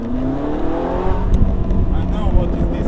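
Ferrari 458 Italia accelerating hard with manual gear changes, its engine rising in pitch in loud close sweeps, while people talk inside the car.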